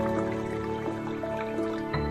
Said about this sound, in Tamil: இப்போ நம்ம ஊற வச்சுக்கலாம் தண்ணி ஊற்றி.